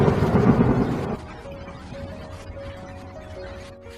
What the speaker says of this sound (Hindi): तभी बिजली कड़कती है और टूना का मौत हो जाता है।